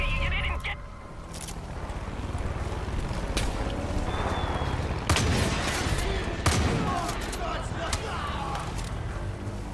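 Gunfire in Far Cry 5 crackling in scattered bursts and sharp reports over busy game noise, with players talking throughout.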